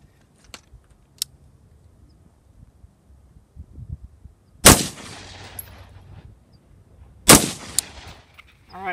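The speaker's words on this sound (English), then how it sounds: "let's give it a couple more shots" Two loud, sharp gunshots strike a Division Armory level III+ standalone armor plate several seconds apart, each followed by a brief ringing tail, with a few faint clicks and handling noises in the quiet between them.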